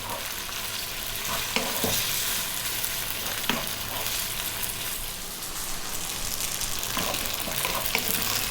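Cooked spaghetti tossed and stirred in a hot pan with olive oil, giving a steady close sizzle and frying crackle with a few scraping stirs throughout, no voices.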